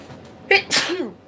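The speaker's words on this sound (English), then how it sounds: "Oh, I gotta sneeze." A single sharp human sneeze, a short gasp followed by an explosive burst close to the microphone, then a brief trailing voiced sound.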